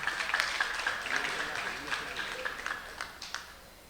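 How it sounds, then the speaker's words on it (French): An audience at a university opening ceremony claps in a loose, fading round of applause, with scattered sharper claps over a steady wash, and voices mixed in. "Applaudissez"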